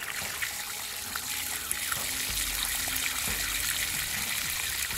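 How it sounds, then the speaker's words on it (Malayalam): Water splashing and trickling steadily as a blood worm culture is washed by hand in a basin, continuous close sloshing with no talk. "ഇങ്ങനെ നന്നായിട്ട് കഴുകി കൊടുക്കണം"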